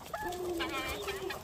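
Chickens and several roosters on a homestead cluck and call close by, a few overlapping bursts of squawking notes with a sustained tonal call running underneath.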